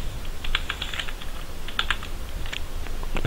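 Text is typed on a computer keyboard at a desk, a quick run of light clicking keystrokes in small uneven bursts, close and clear, with no voices.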